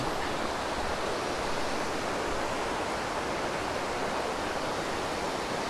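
The River Plym flowing through Dewerstone Woods outside Plymouth in southwest England gives a steady, dense rush of water, close and loud, continuous without pauses or speech.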